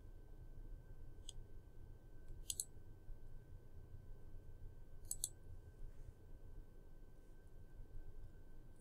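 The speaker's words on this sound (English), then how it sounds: "I'll begin by clicking Global Warming under the Earth and Environment category" Computer mouse clicking on a menu item in an online reference database, a few faint, sharp clicks spaced apart over quiet room tone.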